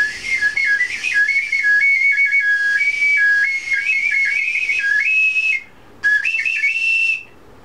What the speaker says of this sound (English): This is said whistle. I will now prove that it works.